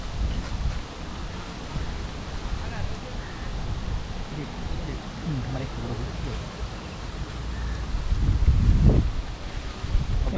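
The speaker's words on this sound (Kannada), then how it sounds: "ಫುಲ್ ಗಾಳಿ ಬರ್ತಾ ಇದೆ, ಒಂಥರ ಪೀಸ್ಫುಲ್ ಆಗಿದೆ ಗೈಸ್" Wind blowing through a riverside rainy forest at a campsite: a continuous low rumble with rustling leaves and gusts buffeting the microphone, swelling near the end, with people talking faintly underneath.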